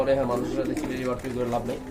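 Soft, rhythmic cooing of pigeons close by, low repeated throaty calls with a voice speaking over them.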